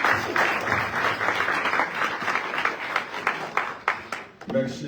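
Church congregation applauding during a weekly worship service, a sustained wash of many hands clapping with rhythmic accents, a voice rising over it near the end.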